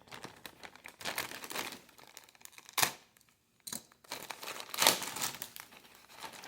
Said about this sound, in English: Why is my cutter not wanting to cut that?